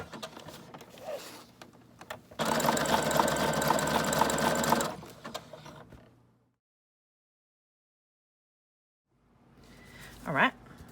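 A sewing machine runs a steady, close burst of stitching around the edge of a paper Valentine junk journal envelope, preceded and followed by quiet handling and a voice talking.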